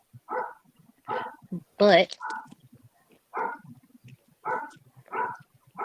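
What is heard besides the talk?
puppy barking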